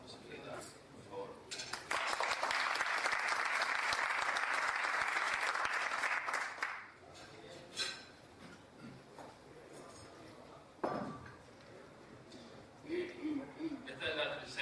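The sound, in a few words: audience applause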